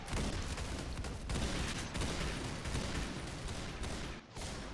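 Dense, loud gunfire in a Roblox shooting game, rattling continuously with a brief dip near the end, close and alone without any talking.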